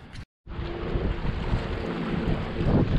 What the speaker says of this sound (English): This wind is just getting to be unmanageable.